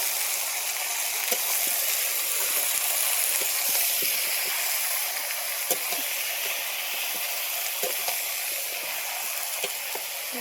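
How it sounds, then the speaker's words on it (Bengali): Potato and pumpkin sautéing with Malabar spinach in a pan, a continuous close sizzle and hiss with small scattered crackles and taps throughout. "আলু কুমড়োটাকে দিয়ে ভালোভাবে কষিয়ে নেবো"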